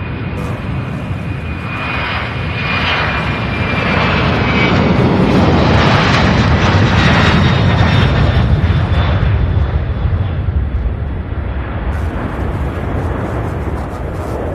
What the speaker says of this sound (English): Here we go, the 767 is off.